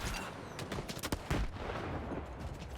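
Gunfire and grenade launcher blasts in the shooter game Stalker 2: a dense, loud stretch of rapid overlapping shots and heavier booms with no clear pause.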